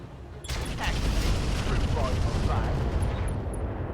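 Heavy mech weapons fire in the RogueTech BattleTech game, launched in a triple salvo: dense, loud, continuous rumbling barrage with booming low end lasting several seconds.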